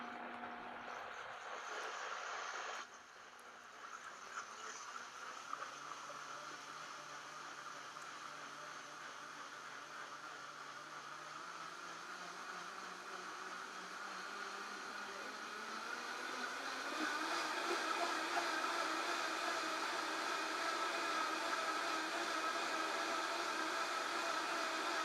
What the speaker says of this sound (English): So I'm going to blend this and make it into milk.